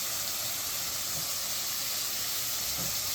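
Quarter cup of white wine poured into a hot pan of seared halibut with onions, giving a loud, steady sizzling hiss that holds evenly throughout with no talking.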